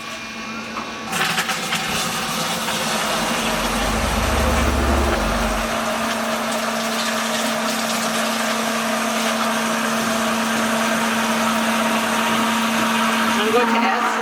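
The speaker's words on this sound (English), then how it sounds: "And then I'll plug in the pump and initiate the service." Electric pump running steadily to flush vinegar through a Rinnai tankless water heater, a continuous loud mechanical hum with a brief low rumble as it starts, no talking.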